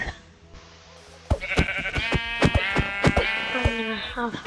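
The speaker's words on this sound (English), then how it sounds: "Another sheep." Sheep in the Minecraft video game bleat close and loud, a trembling, stuttering baa that starts abruptly after a quiet moment and carries on with rapid pulsing to the end.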